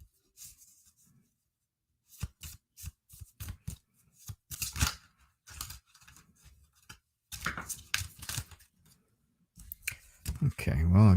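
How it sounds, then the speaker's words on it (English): Tarot cards are shuffled in bursts of riffling and slapping, close and fairly loud, with pauses between and someone talking over parts of it. "I'm just throwing cards all over here with this wonderful shuffling job I'm doing"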